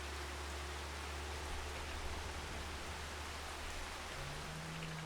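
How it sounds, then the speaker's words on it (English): Steady rain falling in a farming video game, a continuous even hiss with a low rumble underneath and no voices throughout. "Oh, it's raining again."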